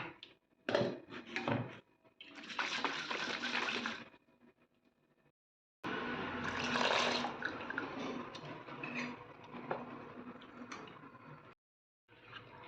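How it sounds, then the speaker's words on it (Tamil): Water splashes and swirls inside a mixer jar in two bursts, with clinks and clatter of kitchenware between, close and fairly loud. "மிக்சி ஜாரில் ஒரு டம்ளர் தண்ணி ஊற்றி இதையும் கழுவி ஊற்றிக்கலாம்"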